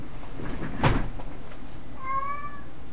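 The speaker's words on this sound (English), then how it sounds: "And, of course, my kitty is hollering to me." A house cat meows once, fairly near, in a short drawn-out call near the end. A dull knock comes before it, all over a steady hum, with no speech.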